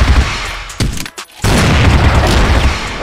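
Gunfire in the online shooter CrossFire during a ranked match, loud dense bursts of shots and booms filling the whole clip with a brief dip in the middle.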